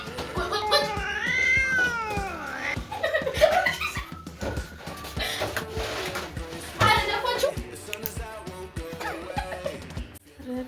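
A cat meows and yowls repeatedly during a bath, its cries rising and falling over running water and splashing, with people talking and laughing nearby.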